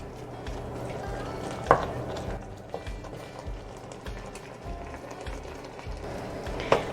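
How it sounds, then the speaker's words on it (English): Peppers are stirred into homemade chili in a pot, giving a soft, continuous low scraping and bubbling with a few sharp clinks of the utensil against the pot. "I'm gonna add my pepper. And I'm gonna stir it around."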